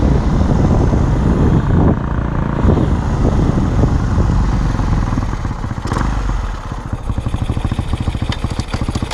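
A Sachs MadAss motorcycle engine roars loud and close while being ridden, revving and fluttering with a rough, rattling pulse as the carburetor cuts out at speed, no voices.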